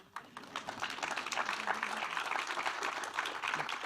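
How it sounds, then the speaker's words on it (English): A live audience at a South by Southwest panel breaks into a round of applause that starts with a sharp clap, swells quickly and stays as sustained, fairly distant clapping. "I'll let the round of applause go if you need to."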